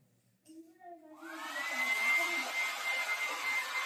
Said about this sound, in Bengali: এখানে এখন ড্রায়ার চলছে।